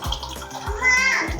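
Milk pouring into a mixer jar for avocado juice in a home kitchen, a short splashing liquid stream that rises in pitch as the jar fills, with a voice faintly heard alongside.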